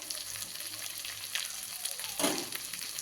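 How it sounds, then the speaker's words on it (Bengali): Spices with green chili paste, Kashmiri chili powder, salt and turmeric sizzle softly in a pan for a khoira fish curry while being stirred, with a low continuous fry and a brief scraping swell near the end. "মশলাটা একটু নাড়াচাড়া করে নেবো।"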